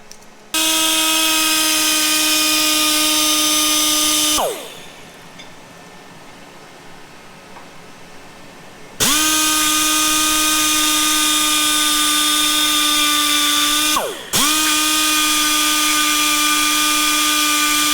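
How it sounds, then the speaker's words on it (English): A power tool whines while chamfering the oil holes of a 1968 Firebird 350 crankshaft, in two long steady bursts separated by a quiet pause. Each burst ends with a short dip in pitch. The tool is close and loud, and no one talks. "I'm going to do here is chamfer my oil holes before I go any farther"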